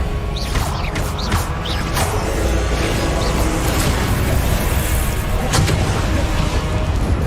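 A Confringo fire spell blasts during a Hogwarts Legacy battle, loud booming and crashing impacts layered with mechanical clatter and sharp whooshes, dense and continuous throughout.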